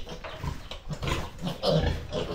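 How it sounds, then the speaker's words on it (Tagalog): Small piglets grunt and snuffle close by in a rough, busy run of short oinks, loud and continuous over a couple of seconds. "Yan yung mga baboy natin, oh, maliliit."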